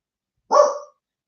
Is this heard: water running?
no